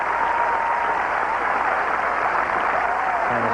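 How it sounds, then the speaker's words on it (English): Broad, steady applause from a Wimbledon grass-court crowd for a 24-year-old Colombian tennis player, a continuous wash of clapping lasting the whole stretch with no pauses, no voices standing out. "a big round of applause for the 24-year-old Colombian"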